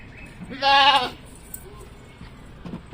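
A single loud, close bleat from one of the sacrificial goats bought for Qurbani in Karachi, a wavering cry lasting about half a second against a quiet background.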